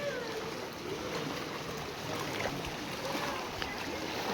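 Floodwater in Lalitpur rushing steadily into a gutter, a continuous broad watery roar with faint sloshing, moderately close and unbroken throughout.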